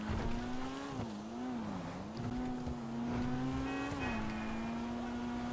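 Engine of a Porsche 718 Cayman-based sports car in GTA 5 Online, a steady droning tone whose pitch dips and climbs as the car cruises and shifts, continuous and fairly loud with no talking.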